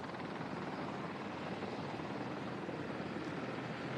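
Helicopter arriving at Jacarepaguá airport in Rio de Janeiro, a steady dense rotor roar with no breaks, moderately distant and constant.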